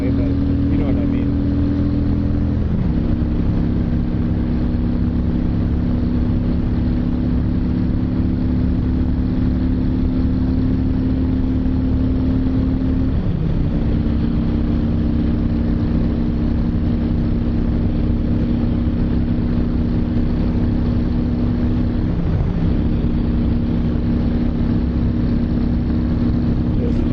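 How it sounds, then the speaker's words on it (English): 2010 Honda Shadow Phantom motorcycle held at wide open throttle, a loud continuous engine drone with steady pitch that dips briefly at two gear changes, wind rush throughout, recorded close from the rider's position. "I'm wide open throttle in 5th gear, and that was 75 miles an hour."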